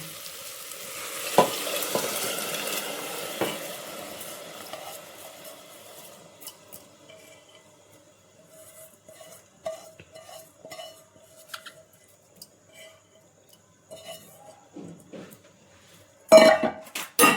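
Soaked khichdi being stirred into sautéed spices in a pot: an early burst of sizzling gives way to scattered spoon scrapes and clinks against the pot, ending in a loud clatter, with no speech.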